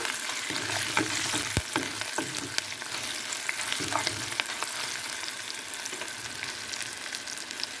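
Onions frying in a pan for sambar, a steady dense sizzle and crackle with occasional stirring clicks, close and continuous throughout.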